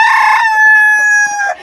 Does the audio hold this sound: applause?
no